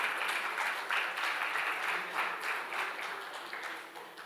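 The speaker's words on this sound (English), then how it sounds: "A big round of applause for Dr. Hirofumi" Audience applause at a veterinary animal disease management conference session, a steady wash of many hands clapping close and fairly loud for several seconds, tapering slightly toward the end.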